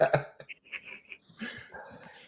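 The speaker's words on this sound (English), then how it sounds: "They're whining and their tail is up and wagging." Dogs whine and whimper in short, high, breathy bursts, close and fairly loud at first, then softer yips and snuffling noises through the rest.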